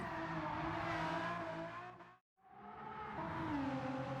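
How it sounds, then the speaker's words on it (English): An Aston Martin Vulcan's engine screams at high revs while drifting in a racing video game, cutting out briefly midway before climbing back to a loud, sustained howl. "the Aston Martin Vulcan is not a very good drift car, but it can be drifted cautiously"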